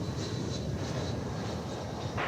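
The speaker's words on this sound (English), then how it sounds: "American Flight 1119 from San Luis Potosí in Mexico is now arriving. It's an Airbus A319." An American Airlines Airbus A319 arriving at Dallas Fort Worth airport, its broadband engine roar steady and fairly close, with a brief brighter hiss near the end.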